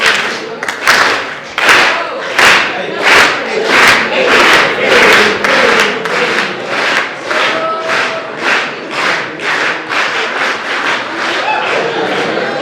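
Students at a school morning meeting clap a loud, rhythmic beat of sharp, evenly spaced claps mixed with crowd shouts, close and sustained.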